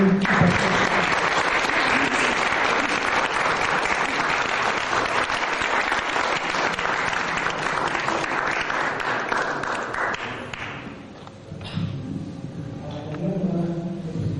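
Sustained applause from an audience at a book presentation, a dense, loud wash of clapping that runs for about ten seconds and then fades out, followed by quieter room sounds.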